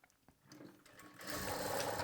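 A sewing machine stitches fabric at a tailor's table, starting with a few soft handling taps and then running steadily and close for the last second or so.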